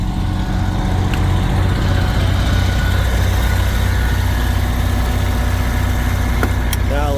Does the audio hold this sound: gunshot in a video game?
no